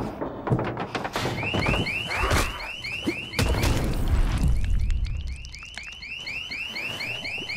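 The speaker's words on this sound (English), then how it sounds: "This is going to set off an alarm though." A car alarm going off in the video game Dead Island 2, its repeating whooping siren cycling steadily over thuds and rumbling game noise, with no talk.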